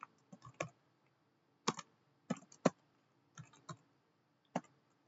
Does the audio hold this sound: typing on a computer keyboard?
yes